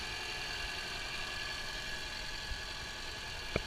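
A 2013 Lexus ES300h hybrid idles close by with a steady, even mid-range hum and faint whine, interrupted by a couple of brief sharp clicks near the end.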